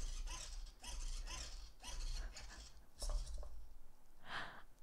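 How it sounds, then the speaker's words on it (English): A servo motor in a robot arm swings back and forth in a wave motion, giving a series of short, quiet mechanical whirring and ratcheting bursts in a regular rhythm, with no talking. "it literally just moved the servo pin 0 around"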